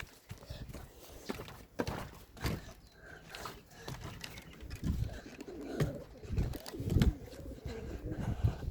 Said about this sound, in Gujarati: બધા કબૂતરાને મિત્રો આપણે ઉડાડવા છે.